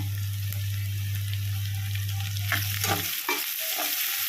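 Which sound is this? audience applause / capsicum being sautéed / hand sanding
capsicum being sautéed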